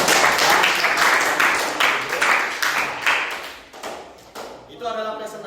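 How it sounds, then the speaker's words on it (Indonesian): A classroom audience claps after a group presentation during a teacher performance exam. The clapping is steady and fairly loud, with talk over and around it, and it thins toward the end. "Silakan tepuk tangan."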